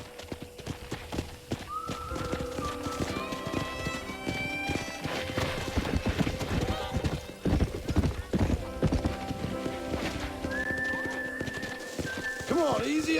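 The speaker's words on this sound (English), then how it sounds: "This is a pretty nice horse." Rhythmic horse hoofbeats in Red Dead Redemption clip-clop along at a trot, with a horse whinnying over them and bits of music and a voice mixed in.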